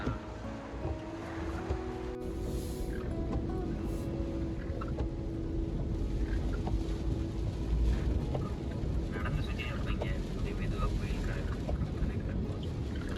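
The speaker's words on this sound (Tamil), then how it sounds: "அடிக்கிற காற்றுக்கு கொந்தளிக்குது கடல்" Steady storm wind roar with churning, rough sea in the background, while people talk over it.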